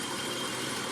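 A BMW E34 car engine idles just after being started during coolant filling, giving a brief steady hum with a constant rumble and no changes in pace.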